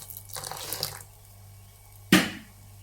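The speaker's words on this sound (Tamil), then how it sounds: "கொஞ்சம் தண்ணி ஊற்றிக்கலாம்" Water poured into thick adai batter in a home kitchen, a short splashing gush near the end after a quieter stretch of soft handling sounds, close and fairly loud against a low steady hum.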